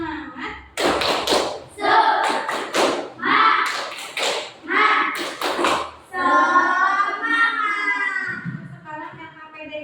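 A classroom of children performs a rhythmic spirit clap, grouped loud claps in a patterned beat mixed with shouted chanting voices, ending in a longer sustained group call.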